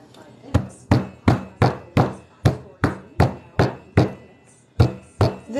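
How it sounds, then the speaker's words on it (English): Steady, rhythmic thuds of a meat tenderizer pounding food on a board, about two blows per second, close and loud. "We're just gonna hammer these open."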